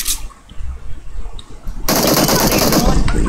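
Rapid automatic gunfire from PUBG Mobile erupts loud and sustained after a quieter stretch, a dense continuous burst of game weapon shots with no talking.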